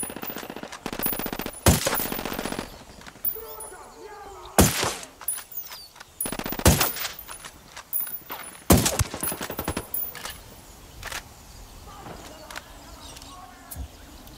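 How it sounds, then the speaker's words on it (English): Machine gun fire in Ghost Recon Wildlands during a firefight with cartel soldiers: repeated sharp automatic bursts, some loud and close, some scattered shots between them, with voices talking throughout. "Shots fired. Unidad's engaging the cartel."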